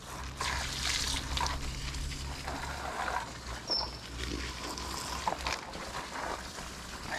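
Spring water gushes and trickles steadily from a pipe, a continuous splashing flow with a low rumble underneath, heard close by.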